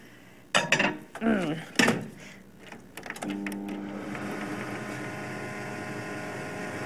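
A steady electric hum from a microwave oven drones on after a few clattering knocks and bumps, a continuous motor-like whir that fills the remaining seconds.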